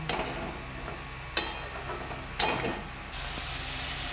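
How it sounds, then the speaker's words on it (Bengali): Potatoes being stirred into gravy in a pan, with a few sharp scraping knocks of the spoon against the pan over a low background hiss and no voices. "আলুগুলো দেওয়ার পর গ্রেভিটির সঙ্গে আলুগুলোকে খুব ভালোভাবে মিশ্রণ করে নেব"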